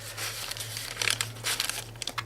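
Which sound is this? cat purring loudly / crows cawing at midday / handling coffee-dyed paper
handling coffee-dyed paper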